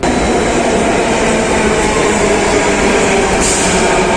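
A Delhi Metro train rolls into a station with a steady, loud rumble that holds evenly throughout, a brief brighter hiss rising near the end as it slows alongside the platform.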